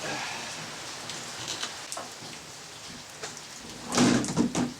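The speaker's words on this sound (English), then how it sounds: "It's raining" Steady rain patters on a surface outdoors near a DR650 motorcycle, with a few louder drips and knocks toward the end and a voice briefly speaking.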